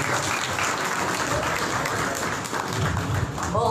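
Enthusiastic applause from a congregation during a church morning prayer service, steady dense clapping throughout, moderately distant and filling the room.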